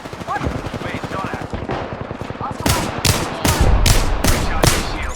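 Rapid automatic gunfire from the Apex Legends shooter game, with dense bursts early and then loud sharp shots cracking in a quick uneven series, close and punchy, under bits of game audio.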